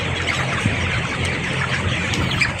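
A dense, noisy chorus of many chickens clucking and squawking continuously, with a constant background hubbub and no clear pauses.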